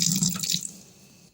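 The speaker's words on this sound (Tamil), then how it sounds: "அப்புறம் அந்த ஸ்பாஞ்சை நம்ம தண்ணியில் கழுவிட்டா போதும்" A kitchen sponge is rinsed under a running tap, a close splashing gush of water that fades out within about a second.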